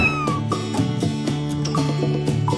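A cat meows repeatedly in a cat hotel in Pattaya, its loud, close, drawn-out cries following one another with brief pauses and no talk.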